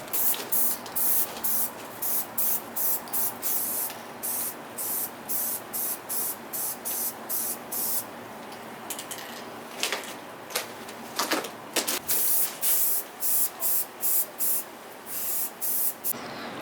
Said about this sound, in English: Time to get this scooter a quick spray